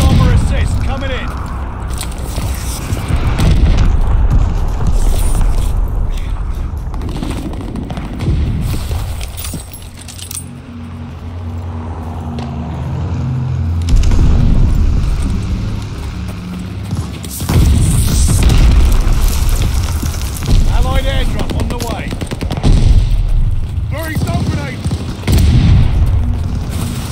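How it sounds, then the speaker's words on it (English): Friendly glide bomber run in Call of Duty Vanguard team deathmatch: deep booming explosions arrive in several heavy waves with quieter gaps between, over ongoing battle noise and occasional shouted voices. "Friendly bombing run on the way. Glide bomber assist coming in."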